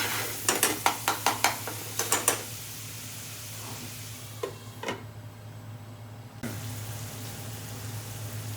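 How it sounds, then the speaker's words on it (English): Curry sauce for an Indian-inspired salmon curry simmers in a pan on a gas stove with a low, steady sizzle, broken early by a quick run of sharp clinks and taps of utensils against the pan. "I'm going to lower the gas and cook it down for a couple of minutes."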